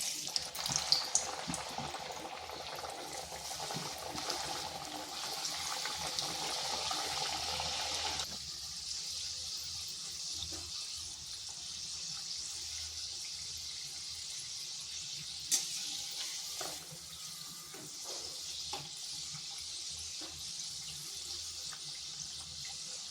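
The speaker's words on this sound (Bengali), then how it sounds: "এইভাবে উল্টে পাল্টে ভেজে নিচ্ছি এগুলো" Flour and potato snacks deep-frying in oil in a wok, a dense hissing bubble that is louder at first and then settles into a quieter, steady fizz with a few small clinks.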